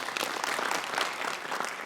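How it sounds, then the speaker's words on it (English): Audience clapping at a county trade expo in Nandi, Kenya, a steady dense patter of many hands sustained evenly throughout at moderate volume, with no voices rising above it. "Can you clap for him?"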